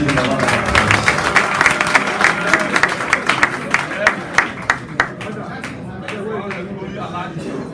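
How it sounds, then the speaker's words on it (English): Audience applause and cheering at a political party press conference, a dense burst of clapping that thins into scattered individual claps before fading under crowd murmur. "Let's give him a round of applause."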